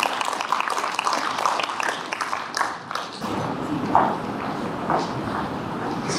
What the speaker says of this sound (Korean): 박수로 단상 위로 모시겠습니다